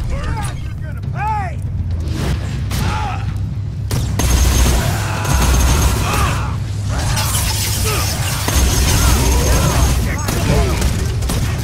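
An electric plasma caster fires rapid sci-fi energy shots in a Borderlands 2 firefight. The dense, loud bursts and booms play over a busy game soundscape of other effects.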